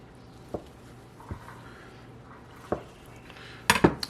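Feta cheese being diced on a board for Israeli salad, a few sparse knife taps and thuds spaced seconds apart, then a quick flurry of clattering knocks near the end, with no talk.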